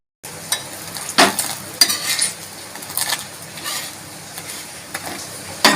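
A vegetable chapati paratha topped with cheese cooks on a pan with a soft, ongoing sizzle, broken by several sharp scraping and clinking hits from a spatula being turned against the pan.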